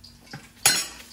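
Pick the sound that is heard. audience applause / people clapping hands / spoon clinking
spoon clinking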